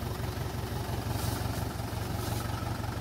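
A tractor engine runs steadily on a village farm track, its low, pulsing chug continuous and fairly close throughout, with no talk over it.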